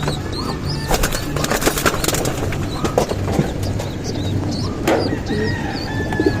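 Pigeons, including recently fledged young birds kept at the back of a house, coo and call in a busy, steady outdoor mix with occasional wing flutters and no clear talk.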